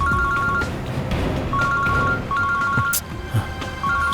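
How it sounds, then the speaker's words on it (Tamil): A mobile phone ringtone in a Tamil CID TV drama repeats in steady pulses of electronic tones over low background noise. "ஸ்ரேயா அம்மா கிட்டேருந்து ஃபோன்"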